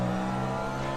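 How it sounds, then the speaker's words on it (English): A Cadillac hypercar in the Le Mans Ultimate racing game holds a steady, loud engine drone through a quick double upshift, with no voice over it. "Double upshift."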